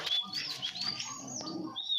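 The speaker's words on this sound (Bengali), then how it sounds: "এটা বাচ্চা কবুতর" Thin, high chirps from a young pigeon come close and continuous over a soft rustling background.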